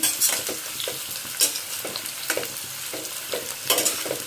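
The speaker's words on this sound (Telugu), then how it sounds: "ఇప్పుడైతే కాకరకాయ ముక్కలు అయితే వేగుతున్నాయండి" Bitter gourd pieces fry in oil with a steady sizzle, broken by repeated scraping and stirring strokes in the pan, close and fairly loud, no talking.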